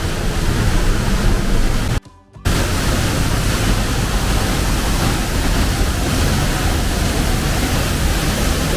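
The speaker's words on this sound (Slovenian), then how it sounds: "Tole pa zgornji slap." The upper fall of Slap Peričnik in the Vrata valley roars as a loud, constant, broadband rush of water, close and unbroken except for one brief dropout, with no talk.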